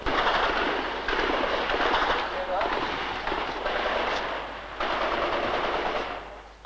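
Gunfire in street fighting in Vietnam in 1966, heard as dense, continuous bursts of rapid shots with a rough, noisy rumble, loud and sustained with brief dips, with what seems to be a voice mixed in.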